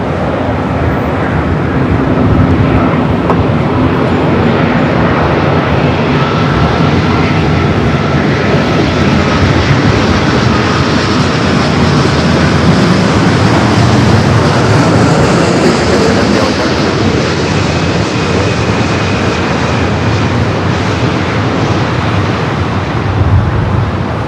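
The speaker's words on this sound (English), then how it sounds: "Virgin Flight 7, A350 1000. Up next for arrival," A Virgin Atlantic Airbus A350-1000 airliner arriving at LAX from London Heathrow, its engines a steady broadband roar that holds loud and continuous for the whole stretch with no talking.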